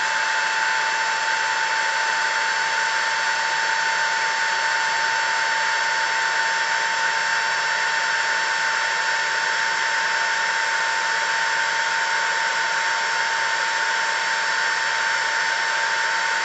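A power drill spins wire at 3000 RPM to twist a Clapton coil, giving a loud, steady high-pitched whine that holds unbroken throughout with no talking.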